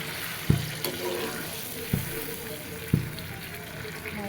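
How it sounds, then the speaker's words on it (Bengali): Water splashes into a pan of browned, cooked-down meat for gravy, a running watery gush under a soft background voice, with three dull knocks against the pot. "এখন এতে আমি ঝোলের জল মাংসের মধ্যে দিয়ে দিলাম।"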